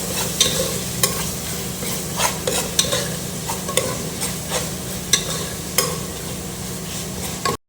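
Cinnamon bark and cloves sizzle in hot oil as they are stirred, a constant frying crackle punctuated by regular scraping clicks of the spoon against the pan.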